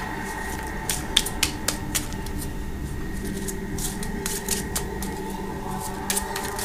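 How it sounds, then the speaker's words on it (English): Several decks of Pandemic board game cards are shuffled by hand, making a series of crisp, irregular clicks and riffles close by, with no talk. "We will shuffle each deck."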